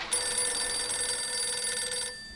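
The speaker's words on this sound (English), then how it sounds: "Could that be a telephone ringing?" A single sustained electronic telephone ring from the adventure video game Journey to the Center of the Earth, bright and steady for about two seconds before cutting off cleanly, with no talking.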